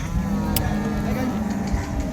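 A young Holstein Friesian (HF) cow with a calf gives a long, loud, close moo at a cattle market in Loni, sustained low and steady with faint market background noise.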